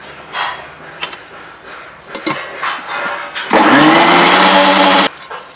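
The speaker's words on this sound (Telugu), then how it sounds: "ఎగ్స్ ఫోమ్ వచ్చే వరకు బీట్ చేస్తూనే ఉండాలి" Eggs for cake batter being beaten until foamy, an electric mixer whirring steadily and loudly for about two seconds after scattered clinks and bumps.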